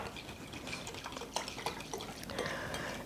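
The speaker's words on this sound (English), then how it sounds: "And then I'm just going to mix it up" A spoon stirs regular yeast, sugar and liquid in a bowl for bun dough, giving soft close scraping and light clinking that continues evenly throughout.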